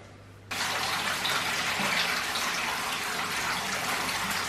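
Tap water gushes steadily into a container, filling it for mixing film developer at about 20 degrees; a loud, continuous rush starts abruptly after a brief quiet moment and holds evenly to the end.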